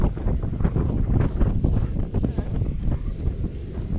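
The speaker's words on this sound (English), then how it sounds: "The wind has come up." Wind gusts buffeting the microphone on a fishing boat on Lake Lanier, a loud continuous rumbling roar with faint water sounds underneath and no talk.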